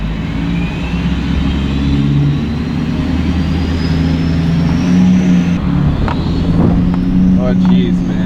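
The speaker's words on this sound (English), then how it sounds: "That was a shift. That was totally a shift. And it's shifting smooth." A truck engine runs steadily at close range while the vehicle drives and shifts through its gears, a loud continuous drone with changing pitch, and someone talks over it.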